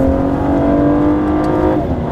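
A 2014 Cadillac CTS with a twin-turbo engine roars loudly and steadily on the Mosport racetrack, holding a strong drone from inside the car before the pitch shifts briefly near the end, as with a downshift.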